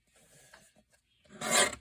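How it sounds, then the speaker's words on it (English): Scored paper is cut off with a soft rasping, rubbing sound that ends in a brief louder tearing swipe. "I'm going to cut it off."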